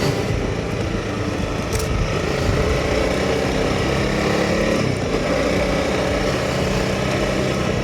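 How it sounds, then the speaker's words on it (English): A Honda CRF300 Rally motorcycle engine runs steadily and loudly up close, a continuous buzzing drone reflecting off the fairing, with rushing wind noise and no pauses. "You can hear all the engine noises reflecting up off the fairing."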